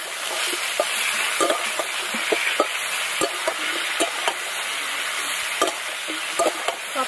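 Potatoes and cauliflower frying with turmeric, salt and nigella seeds in a pan: a steady sizzling hiss underneath, broken by repeated sharp spatula scrapes and knocks at irregular intervals, close up, no talking.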